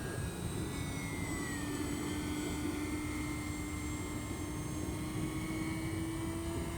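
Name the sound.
E-flite P-51D Mustang RC model airplane flying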